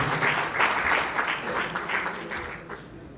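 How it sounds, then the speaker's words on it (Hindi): An audience at an organisation's convention gathering claps steadily in a dense, fairly loud wave of applause that slowly tapers off. "आप सभी की तालियों के बीच में इनको आमंत्रित कर रहा हूँ।"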